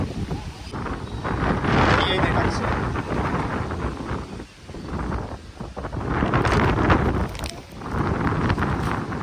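Strong wind buffets the microphone in loud, roaring gusts that rise and fall for several seconds.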